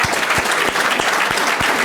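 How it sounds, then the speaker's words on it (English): Applause from an audience at a public discussion, a steady dense wash of clapping held at an even level throughout, with no voices breaking through. "Okay, round of applause"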